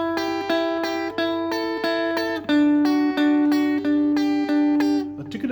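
Guitar playing the picking pattern from the chorus of a song: a steady, moderate stream of plucked notes ringing clearly over one another, close and fairly soft, with no voices.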